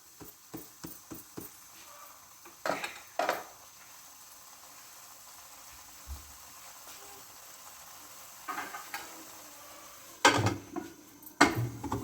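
A cooking pot of sizzling tomato and turmeric masala is handled, with a lid clattering into place among metallic pot and utensil knocks, scattered clinks and a faint frying hiss underneath.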